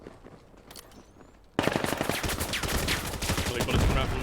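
Rapid automatic gunfire in the tactical shooter Valorant during a competitive match, starting faintly, then jumping to sustained loud bursts of shots that run to the end.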